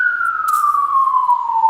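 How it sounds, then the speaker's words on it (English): Police siren wailing outside, a single loud continuous tone sliding slowly downward in pitch, steady and prominent with no talk over it. "Sorry about the police sirens."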